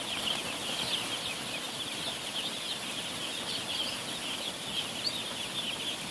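Dense, steady chorus of many chickens clucking and chirping together indoors in a heated poultry house at night, a constant crowded murmur at moderate volume.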